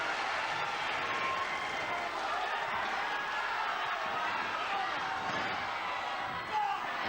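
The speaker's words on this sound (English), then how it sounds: "the crowd really going mad at the start of this one" Wrestling crowd in a hall cheering wildly at the start of a classic British bout, a dense continuous roar with scattered whistles. It holds a steady level throughout, with a brief bump near the end.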